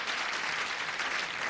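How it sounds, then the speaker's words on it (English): A studio audience on a television game show applauds steadily, a dense, even wash of clapping with no voices over it. "Applause."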